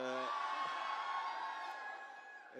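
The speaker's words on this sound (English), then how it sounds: "It's an amazing crowd. They love Ranveer here." A crowd cheers and whoops for Ranveer Singh, a dense roar of shouting voices that starts loud and slowly fades over a few seconds.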